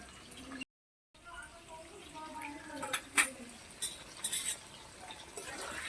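Potatoes frying in a pan and being stirred until browned, with soft scraping and utensil knocks under a background hiss, a few sharper clinks standing out near the end.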